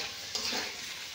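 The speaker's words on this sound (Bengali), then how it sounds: "ডালটাও বেশ ভালো করে একটু এইভাবে কষে নেব" Soaked chana dal and potatoes being stir-fried for a vegetarian soybean curry, a brief, soft sizzle with one quick stirring scrape.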